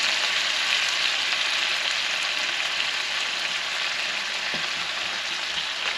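Chicken stock hitting a hot non-stick pan for lobster ravioli sauce, a loud continuous close sizzle and hiss that holds steady throughout.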